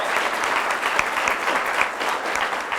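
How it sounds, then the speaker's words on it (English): An audience at a Jefferson College practical nursing pinning ceremony gives the nurse graduates a sustained round of applause, a full, even rush of many hands clapping with a few sharper claps standing out. "let's give our nurse graduates one more big round of applause"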